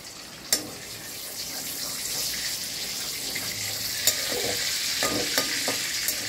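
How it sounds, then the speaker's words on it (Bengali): Soya chaap pieces fry in hot oil, giving a continuous soft sizzle with a few sharp clicks and splashes, close by and without any voices. "তেলটা গরম হলে এগুলোকে ভাজতে হবে।"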